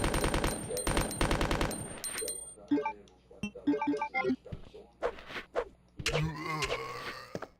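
Rapid SMG bursts in Resident Evil 2 open with a dense, loud volley and give way to sparser single shots, clinks and game effects, with a rising mechanical whir near the end.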